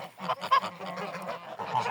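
Domestic geese, a flock of ganders and hens, give a burst of loud nasal honks in quick overlapping succession, close by, with no one talking.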